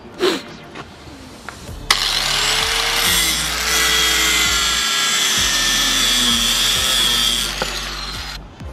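An angle grinder screams loudly for several seconds, a harsh high-pitched grinding roar that starts abruptly and cuts off near the end, with faint clatter around it.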